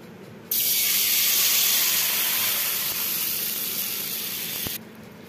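Mashed boiled hog plum drops into hot oil tempered with mustard seeds, setting off a sudden loud sizzle that holds steady for about four seconds, then cuts off abruptly.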